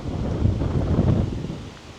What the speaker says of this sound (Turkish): Şu an mikrofonla çekim yapıyoruz. Yansıyor bilmiyorum ama çok rüzgar var.